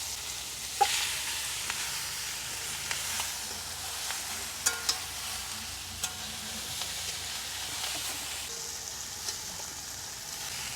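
Banana stem with coconut fries in a pan, giving a steady soft sizzle with a few sharp taps and light stirring knocks scattered throughout, no voices.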